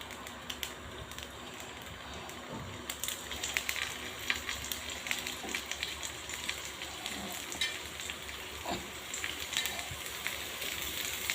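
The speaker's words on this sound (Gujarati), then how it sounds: "કરારું બનાવવું છે એટલે થોડા ફ્રાય કરવા જરૂરી છે। હું બટરમાં કરું છું" Paneer pieces frying in butter on a large flat griddle, a steady soft sizzle with crackling pops and occasional scrapes throughout, fairly quiet and close.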